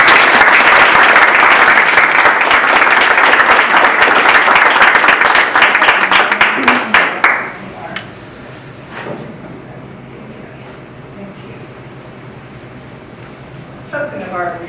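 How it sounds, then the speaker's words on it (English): A crowd applauds loudly and steadily for several seconds, then the clapping thins out into scattered claps and a quiet room. "please join me in giving the judges a round of applause"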